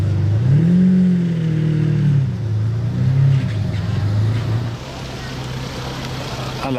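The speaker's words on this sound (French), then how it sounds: "Ferrari 456, ça se fait vraiment rare. La ligne d'échappement, elle a fait un bruit en arrivant." Ferrari 456 V12 arriving, a deep loud exhaust rumble that rises and falls as it passes close, then fades to lower idle-like drone, with people talking nearby.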